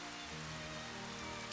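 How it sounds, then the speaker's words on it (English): Steady rain falls in the video game Final Fantasy XV, a continuous even hiss with a low background hum beneath it and no talking. "I'd like to get rid of this rain"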